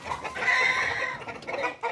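Brazilian-breed roosters and hens clucking and calling close by, a steady busy flock chatter with a few louder bursts, no talking.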